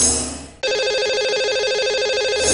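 A telephone line rings out with a steady repeating electronic ring tone, loud and alone, as a Hindi radio show connects a lucky caller on air.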